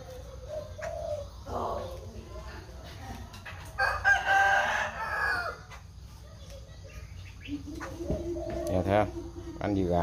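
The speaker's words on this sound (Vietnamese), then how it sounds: "quăng cám cho gà ăn" Chickens and a rooster crowing and clucking as bran is tossed to them for feeding, with bird calls rising and falling through the scene and a person talking intermittently nearby.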